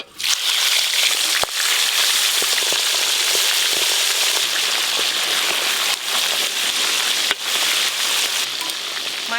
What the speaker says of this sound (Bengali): তুমি মাছের মাথাগুলো ভেজে দাও